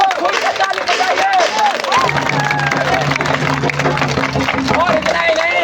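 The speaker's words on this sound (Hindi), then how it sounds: "तो खुल के ताली बजाइए।" A crowd at a Jan Suraaj street play in Bihar claps and cheers, dense applause with babble over it while a voice talks loudly through the noise.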